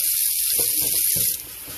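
Cold water pours from a kitchen tap over freshly cooked rigatoni pasta in a sink, a steady hissing splash with soft patters that thins out near the end.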